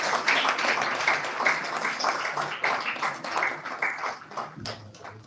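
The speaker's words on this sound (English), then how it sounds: "A round of applause for him too." An audience at a formal event gives a steady round of applause, a dense wash of many hands clapping throughout, with a brief voice near the end.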